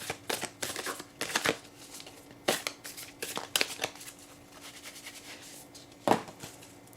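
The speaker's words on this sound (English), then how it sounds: "We are going to shuffle, and we are going to see what card we get." Oracle cards are shuffled in several quick riffling bursts, close by, separated by short pauses, with no talking.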